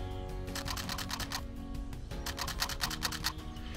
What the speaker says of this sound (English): Did you notice how pressing the shutter button just caused the camera body to move a tiny bit?